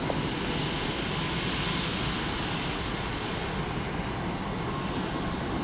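A Delta Boeing 757 jet airliner's engines roar steadily at an airport runway, a dense, continuous broadband rumble held at a fairly constant level for the whole stretch, with no talk.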